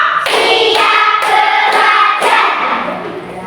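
A classroom group claps in time, with four or five crisp, loud unison claps in a steady beat.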